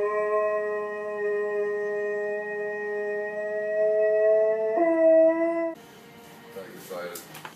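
A pet dog howls in one long, steady, tonal wail that holds for several seconds, shifts pitch near the end and then breaks off into rougher, quieter noise.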